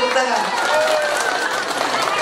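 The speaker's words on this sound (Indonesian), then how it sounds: "Tepuk tangan" A gathered congregation at a religious sermon claps together in a steady, dense wash of applause, with voices talking and murmuring through it.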